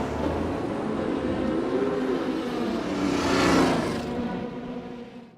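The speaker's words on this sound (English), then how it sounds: "We start the car back up, drop into first gear, and take off." A Ford GT race car at the Le Mans 24-hour race pulls away from the pit garage, its engine note rising loudly and steadily as it accelerates, heard close with no talking.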